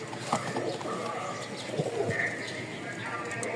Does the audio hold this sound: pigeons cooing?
yes